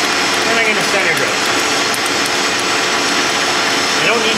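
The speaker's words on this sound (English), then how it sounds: "and I'm going to center drill." A lathe spindle runs steadily while a center drill feeds into a metal part, making a loud continuous whirring machine noise with faint grinding textures; someone talks over part of it.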